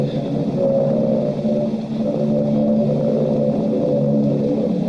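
Aircraft engines drone in a steady, continuous roar in a wartime radio drama effect of dive bombers flying low. The sound is loud and sustained with a slight wavering throughout, and no voices are heard.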